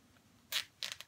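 A plastic zip tie is pulled tight while securing a handmade doll, giving two short close ratcheting zips in quick succession, the second slightly longer, in an otherwise quiet room.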